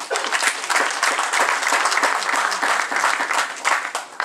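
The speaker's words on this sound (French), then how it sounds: "On applaudit pour ces messieurs-là." An audience at a political talk about a Tshisekedi–Kabila dialogue bursts into loud, dense applause that holds steady for several seconds, close and continuous with no talk over it.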